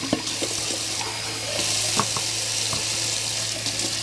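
A bathroom sink tap runs steadily with room-temperature rinse water, a continuous close hiss broken by a few light clinks and splashes.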